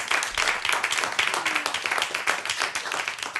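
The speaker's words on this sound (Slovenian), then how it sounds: "En aplavz še enkrat, fantje so si zaslužili" Audience applauding a big band during a live jazz broadcast: steady, dense clapping from a sizable crowd that holds for several seconds at moderate level, with faint voices mixed in.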